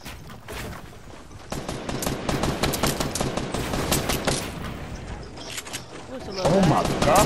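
Gunfire from a PlayStation 4 video game, with dense bursts of rapid shots and loud crackling volleys running through most of the stretch, while voices talk and shout over the shooting.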